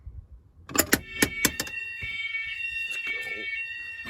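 A building fire alarm system sounds after a BG8 manual pull station is pulled during a system test, starting with several sharp clicks and pulses, then a steady, loud, high-pitched alarm tone that continues alone.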